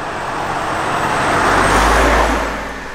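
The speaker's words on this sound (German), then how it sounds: "Da kommt ein Bus, ein BVG-Bus, ein kleiner." A small BVG city bus approaches through a rainy night, its engine rumble and tyre hiss swelling to a peak near the middle before easing off, with steady road noise throughout.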